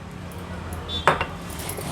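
A metal spoon clinks against a container while scooping a spoonful of oil onto stiff kneaded dough for gul poli, one bright clink with a short rattle, close and alone over quiet room tone.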